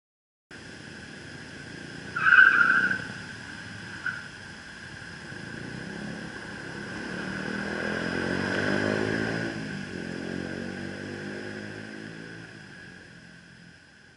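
A low MPV car accelerates over a 100-metre run, its engine note building steadily and peaking midway before easing off, with a short sharp burst near the start; no voices.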